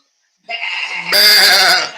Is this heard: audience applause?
no